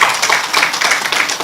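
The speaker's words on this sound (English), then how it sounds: "Ladies and gentlemen, please a round of applause for Ifesinachi Okpagu, Director, BMCC Health Insurance Group." Audience at a business unveiling event applauds a health insurance director: dense, continuous clapping from many hands, loud and close throughout with no talk.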